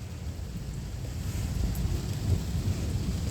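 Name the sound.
thunderstorm with thunder and rain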